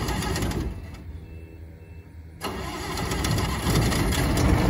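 A harvest machine engine cranks and catches, a rattling start that drops into a brief lull before the motor fires up and settles into a loud, rising idle, close by and without talk.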